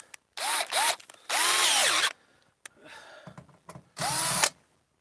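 A power drill backs screws out of an old letter box in short whining bursts that rise and fall in pitch, with quiet handling noises in the gaps between them.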